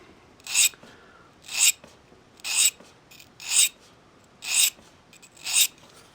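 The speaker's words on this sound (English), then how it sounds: "So that's how you sharpen recurve blades on a bench stone." Recurve blade being sharpened on the corner of a flat bench stone, six evenly spaced rasping strokes, each a crisp close scrape with short pauses between.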